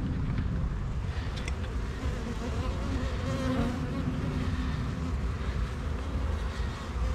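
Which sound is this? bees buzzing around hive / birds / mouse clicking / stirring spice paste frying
bees buzzing around hive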